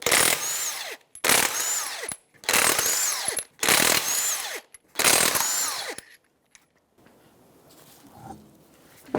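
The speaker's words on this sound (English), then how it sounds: "21mm socket, and we're going to remove the lug nuts on the right front tire" An impact wrench with a 21mm socket zips off the lug nuts on the right front wheel of a 2009–2014 Nissan Maxima in five loud, close, roughly one-second bursts, followed by quieter clinks and handling noise.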